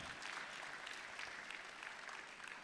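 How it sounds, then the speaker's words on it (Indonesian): An audience at a church service applauds, a steady wash of clapping from many hands, sustained and fairly faint. "Tepuk tangannya jangan setengah-setengah"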